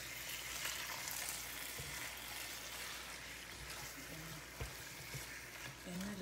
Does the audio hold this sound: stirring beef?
yes